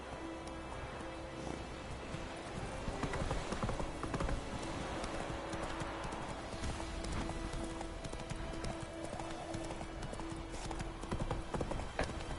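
A horse gallops in The Witcher 3 with a continuous, close clip-clop of hooves and light rustling behind it. A faint whinny and some quiet talk sit under the steady hoofbeats.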